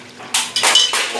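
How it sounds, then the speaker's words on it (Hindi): A metal spoon scrapes and clinks against a pan and bowl while serving mutton karahi, three quick close knocks in a row with no one talking. "चम्मच ला के अब मैं बोल में निकालूंगी"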